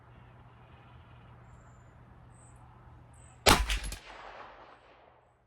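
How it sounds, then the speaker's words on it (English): A Smith & Wesson FPC 9mm folding pistol carbine fires outdoors, heard as a single sharp, loud report that rings out briefly after a stretch of quiet. "I think the last 3 shots, we put 2 bullets in each hole."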